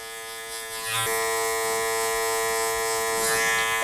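Electric hair clippers trim afro hair in a barbershop skin fade, using the blade corner; a steady close buzzing hum continues alone throughout without speech.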